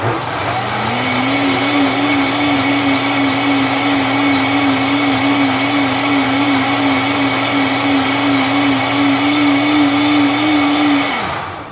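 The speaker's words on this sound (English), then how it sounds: "I want to make sure my dates are all the way blended, so I'm going to turn it on just for another few seconds" A countertop blender runs steadily, grinding dates into coconut milk for a chocolate smoothie, a loud continuous motor whir with a fixed hum that holds for about eleven seconds, then cuts off at the end, with no voices.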